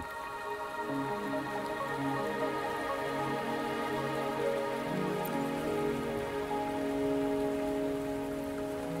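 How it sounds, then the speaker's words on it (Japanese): Rain falling in the video game Wuthering Waves, a steady, even patter on surfaces lasting throughout under a soft sustained musical drone, with no voices. "雨にお困りかな？"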